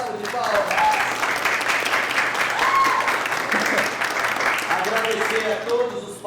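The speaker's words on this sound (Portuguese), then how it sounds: "Nelimar Moura, uma salva de palmas" Audience applause at a dance festival, a steady crowd of clapping hands that keeps up throughout, with a voice briefly audible over it.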